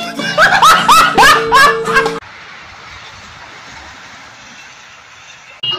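Train passing a railway crossing in Garhmukteshwar near the Brajghat Ganga ghat during the Ganga Dussehra fair: loud, close horn blasts and shrill tones over about two seconds, then a steady rolling rumble of wagons that cuts off abruptly.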